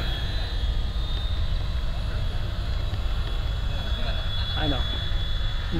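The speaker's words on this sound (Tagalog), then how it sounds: "mag-ingat kayo, killer helicopter to." An MD500 helicopter over a university field gives a steady, dense rotor and engine roar that fills the whole clip, fairly close and unbroken, with faint voices barely showing through.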